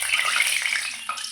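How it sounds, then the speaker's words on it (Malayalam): Heavy rain pours outside at night, a dense, even hiss of falling water, loud and continuous, with no voices. "നല്ല മഴ ഉണ്ട് കേട്ടോ പുറത്ത്."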